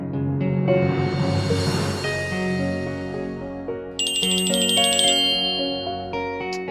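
A loud melodic phone ringtone plays close by, bright chiming tones in a repeating pattern with a high ringing section near the end.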